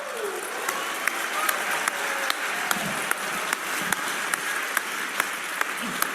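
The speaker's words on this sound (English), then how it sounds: "A round of applause." Audience applause at a Heart To Heart session, a steady wash of clapping with a few sharp individual claps standing out, held at an even level for about six seconds.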